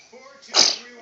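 A young child gives a single short sneeze, a quick sharp burst in the middle of a quiet moment while playing with a toy car. The sneeze is close and moderately loud.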